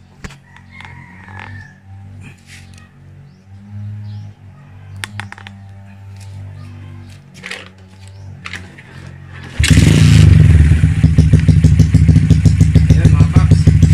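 A Bajaj motorcycle engine fitted with a big carburetor starts and idles loudly and close by with a fast, throbbing putter. Roosters crow and chickens cluck in the background before it starts.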